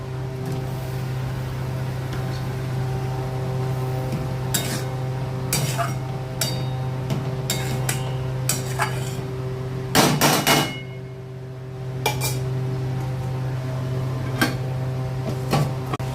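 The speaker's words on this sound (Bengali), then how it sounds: "এবার এই বরবটিগুলো দেবো।" Yardlong beans are tipped into a hot cooking pan of fish curry with onion, chilli and spices. Sharp clatters and clinks come in an irregular series over a steady low hum, near and fairly loud.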